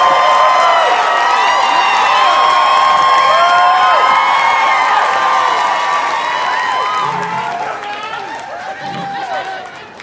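A studio audience claps and cheers loudly for comedian Josh Johnson at a podcast taping, a dense roar of applause and whoops that holds steady and then gradually thins out.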